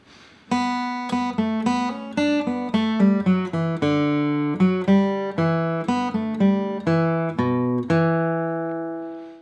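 A guitar plays the first four measures of "Back Side of Albany", a flowing picked melody over ringing bass notes, steady and evenly paced, clear and close, ending on a sustained chord.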